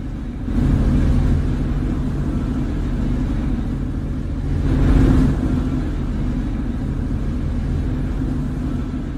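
A 2011 Orion 7 natural-gas transit bus of the Toronto Transit Commission rumbles along in a Roblox game, its steady low engine drone rising briefly as it accelerates, with no talk over it.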